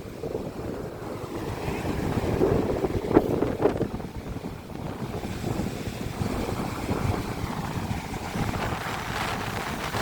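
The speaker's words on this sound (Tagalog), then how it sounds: "Lalaki-laki na ulit ang alon." Sea waves rolling and washing against a shoreline where a large boat sits by a small breakwater, a steady broadband rush with gusting wind buffeting the microphone throughout.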